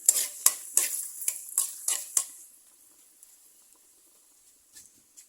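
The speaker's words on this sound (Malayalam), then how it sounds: "കടുക് പൊട്ടി വരുമ്പോൾ രണ്ടു മൂന്ന് വറ്റൽമുളക് ഇട്ട് കൊടുക്കാം" Mustard seeds and dried red chillies fry in coconut oil with a run of sharp, crackling bursts close by for about two seconds. The crackling then fades to near silence with a few faint pops.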